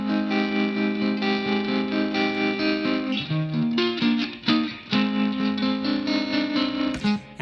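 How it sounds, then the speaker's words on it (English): A major 7 chord strummed on guitar through a tremolo amp, sustained and shimmering with a pulsing, wavering swell and a few chord changes, full and close with no talking. "it's being played through this tremolo amp, which makes it sound really swimmy and,"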